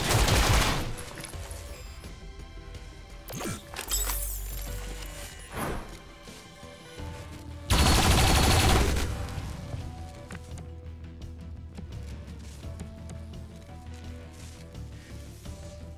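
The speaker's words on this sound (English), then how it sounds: "I'll shoot the turret." Bursts of gunfire aimed at an enemy turret in the tactical game XCOM Chimera Squad, loud volleys and clattering shots with two heavy blasts near the start and midway, then quieter mechanical rattling, and no voices.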